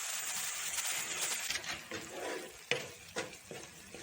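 Coarsely chopped tomatoes frying in a pan, a close sizzle fading in and out around stirring scrapes and a few sharp spoon clicks toward the end.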